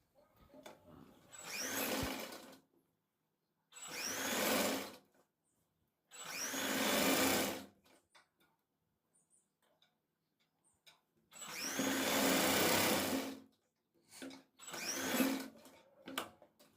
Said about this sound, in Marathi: तर आता ही वरच्या बाजूने खाली पाव इंचावरती टीप मारून शिवून घ्यायची.